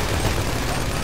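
Rapid, continuous gunfire from the GTA 5 video game forms a dense, loud burst with no clear breaks between the shots.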